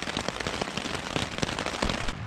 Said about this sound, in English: The wind picked up, the rain got much stronger.